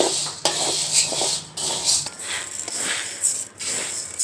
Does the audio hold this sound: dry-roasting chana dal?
yes